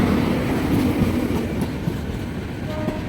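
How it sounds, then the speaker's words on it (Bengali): The Amrit Bharat Express rolls into Azimganj Junction with a steady, close rumble of wheels clattering over the rails and a faint squeal near the end, with no talking. "অমৃত ভারত এক্সপ্রেস আজিমগঞ্জ জংশন ঢুকছে"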